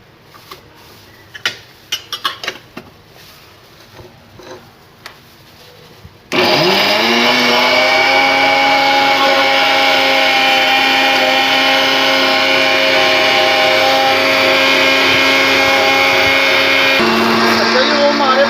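A kitchen blender grinds ginger and garlic into paste with green chillies for a cow brain masala. A few clicks and clatters of handling come first, then the motor starts abruptly and whirs loudly and steadily to the end.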